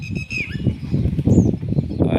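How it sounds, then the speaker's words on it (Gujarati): Countless pigeons at Shri Bhutnath Mahadev temple flapping their wings in repeated bursts of fluttering, with a few thin chirps overhead, fairly close and continuous. "અસંખ્ય કબૂતર"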